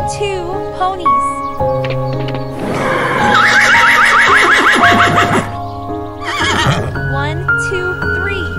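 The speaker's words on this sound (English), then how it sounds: "Two ponies." Ponies whinny loudly and close by, with a long shaky neigh in the middle and hooves clip-clopping among the calls on a farm.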